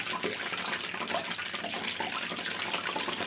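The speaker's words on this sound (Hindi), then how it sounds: "अब इसी के अंदर मैं ये सारे समोसे डाल लूँगी।" Samosas fry in hot oil in a wok, giving a steady, loud, broadband sizzling hiss with bubbly crackles throughout, close by and with no voices.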